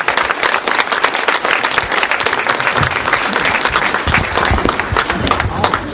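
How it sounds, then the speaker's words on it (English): Dense, continuous applause from a meeting audience at a Portage County Tea Party gathering fills the room, loud and close, with many hands clapping at once and no break throughout. "I'd like to give him a warm round of applause from the Portage County Tea Party"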